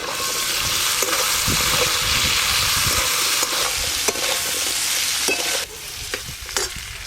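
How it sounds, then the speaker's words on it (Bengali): Jackfruit seeds and potatoes frying in oil in a wok over a clay stove, with a steady loud sizzle and repeated scraping stirs throughout, dropping slightly quieter near the end. "এবার কাঁঠালের বীজ আর আলু একসঙ্গে ভালো করে ভেজে নেব।"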